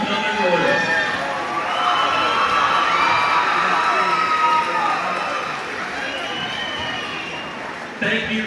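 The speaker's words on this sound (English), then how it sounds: "Thank you for giving them one loud, final, resounding applause" A large crowd fills a high school gym during a homecoming celebration at a basketball game, keeping up loud, continuous cheering and shouting with whoops throughout, and a sharp swell near the end.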